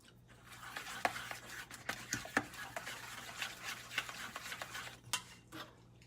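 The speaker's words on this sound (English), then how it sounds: "Now I'm going to stir this" A spoon stirs vegan ranch dressing in a bowl, faint clinks and scrapes in an irregular rhythm against a low steady hum, with no talking.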